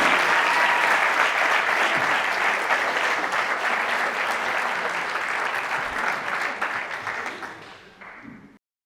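Conference audience in Macael applauding Jorge as he comes up to speak at an addiction prevention and recovery talk, with loud, sustained clapping from a crowd that slowly tapers and fades out near the end.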